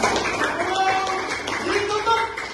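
Students and a teacher clap together in a primary-school classroom during a coding and artificial intelligence lesson, the quick claps mixed under someone talking over them.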